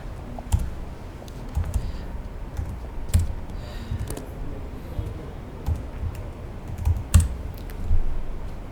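Close, fairly loud keystrokes tap on a computer keyboard in a meeting room setup, entering a meeting ID and password in an uneven run with a few heavier key clicks.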